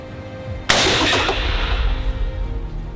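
A single sharp rifle shot cracks at a shooting sports centre in Suhl, fired at a 100-metre target, followed by a long rolling echo that fades across the range; no talking.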